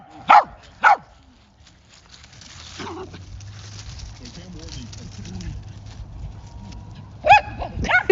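A dog barking for its toy lets out sharp, close barks, two in quick succession, then another, and a final pair after a pause, with people talking and a low hum in between.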